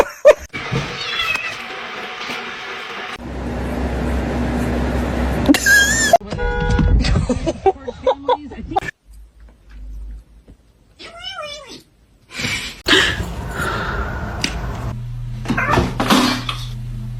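A kitten meows repeatedly in several short, high, wavering calls, close and fairly loud, scattered among household clatter and a few spoken voices.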